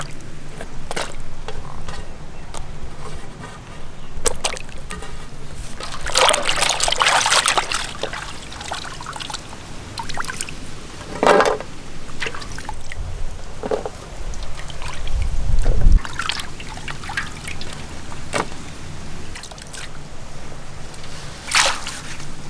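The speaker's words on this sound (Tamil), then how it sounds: "காய்கறியெல்லாம் நல்லா சுத்தமாக கழுவி எடுத்துக்கணுமுக்கா." Vegetables are washed under running water, a continuous trickle and splash with sloshing surges and occasional clinks, close and fairly loud, with no talk over it.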